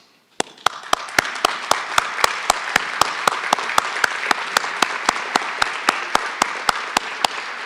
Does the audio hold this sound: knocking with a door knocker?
no